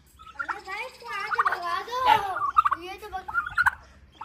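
A turkey gobbles loudly and repeatedly at close range, a rapid warbling burst of calls, with someone speaking in between.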